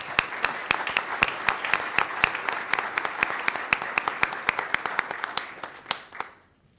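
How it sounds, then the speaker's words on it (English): Audience applause for National Merit Semi-Finalists at a high school recognition event, a modest group clapping in sharp, distinct, rhythmic claps that stop abruptly near the end. "So let's give them a big round of applause."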